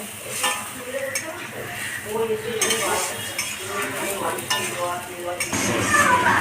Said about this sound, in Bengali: এবার মশলাটাকে কষে নেব।